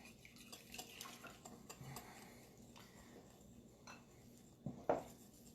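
Sourdough starter and all-purpose flour whisked together in a bowl, quiet rhythmic stirring and clinking of the whisk against the bowl, ending in a louder knock, no talk.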